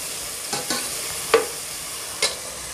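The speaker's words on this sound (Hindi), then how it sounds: "अदरक लहसुन को भी बिल्कुल हल्का सा फ्राई करेंगे, डार्क होने नहीं देंगे" Ginger garlic paste lightly frying in a pan, a soft continuous sizzle with a few scraping stir strokes spaced through it, close and fairly quiet, no talking.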